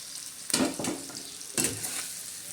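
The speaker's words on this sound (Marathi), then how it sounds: "आता ते शेंगदाणे आपण त्याच्यामध्ये भाजून घेणार आहोत" Ground peanuts dry-roast in a pan with a soft hiss, broken by two sharp scraping stirs of a spatula, fairly faint and close, without talk.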